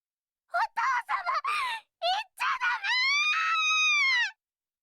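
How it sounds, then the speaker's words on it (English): A video game character in Amayui Castle Meister lets out a loud, drawn-out scream in several bursts, rising into one long sustained shriek at the end, heard alone. "Pia screams as loud as she could."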